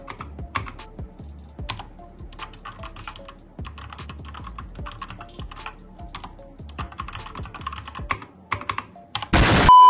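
Someone types on a budget ADX computer keyboard, up close, producing a busy stream of crisp clacking keystrokes in irregular bursts with short pauses, ending in a sudden loud burst of noise.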